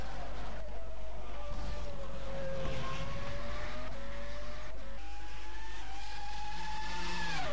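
Race car engine in a sim racing video game, heard from the onboard camera as a lap begins, a steady loud whine whose pitch climbs and drops through gear changes, with tire noise underneath and no voices.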